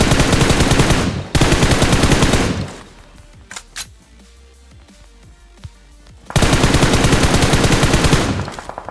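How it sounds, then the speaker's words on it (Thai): Automatic weapon fire in a PUBG Mobile match on the Sanhok map: two long, loud, dense bursts of rapid shots separated by a quieter stretch with a few scattered single shots. "กำลังยิงกันอยู่"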